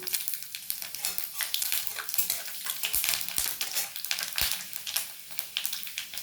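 Panch phoron and dried red chillies dropped into hot oil in a kadai crackle and sizzle busily, with a few sharp pops and stirring scrapes, fairly close.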